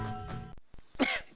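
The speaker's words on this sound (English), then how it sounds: "but I still have this cough" A person with a lingering cough and sinus trouble lets out a few short, harsh throat-clearing coughs, close and fairly loud, following a brief stretch of background music.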